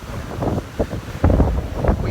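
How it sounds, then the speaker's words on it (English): Strong gusty wind roars against the microphone in uneven bursts, growing louder and rougher partway through. "I never witnessed it be so windy."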